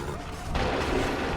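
A musket volley goes off in Assassin's Creed 3, a sudden broad crack halfway through that leaves a loud, rough wash of battlefield noise behind it.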